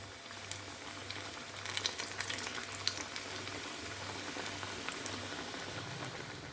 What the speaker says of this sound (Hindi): चलें अब हम इसे फ्राई कर लेंगे एक एक करके।